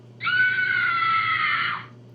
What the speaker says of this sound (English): That was such a loud sneeze that somebody screamed